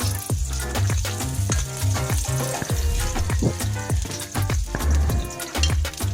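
Onion hits hot oil with sauteed garlic for a spicy squid stir-fry, giving a steady, loud sizzle broken by frequent clacks of a utensil stirring against the pan.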